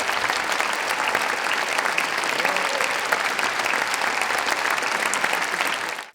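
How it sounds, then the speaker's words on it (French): Steady, dense applause from a concert audience at the Salle Garnier, loud and continuous for about six seconds before cutting off abruptly. "avec bien sûr les applaudissements du public de la salle Garnier"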